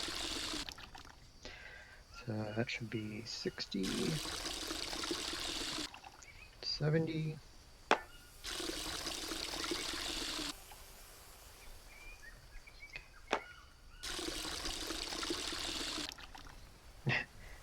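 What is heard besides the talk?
water being poured to fill a container, in the VR game GHVR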